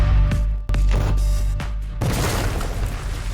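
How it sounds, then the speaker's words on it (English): A 2S7 Pion heavy artillery gun fires, giving a loud close boom followed by a second heavy blast and a rolling, rumbling tail with no talking. "Russian commanders respond immediately with counter-artillery fire."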